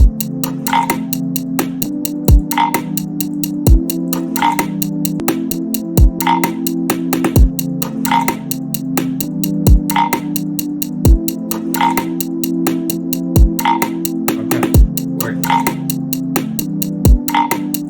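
A sampled frog croak, chopped and processed in FL Studio, repeats in a steady looping rhythm over a sustained low bass drone, with sharp percussive hits marking the pattern throughout.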